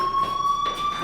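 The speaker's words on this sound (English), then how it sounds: "Hey, do you hear that fire alarm?" A building fire alarm in the video game Life is Strange sounds as a steady, piercing electronic tone with faint pulsing, continuous and fairly close, with no talk over it.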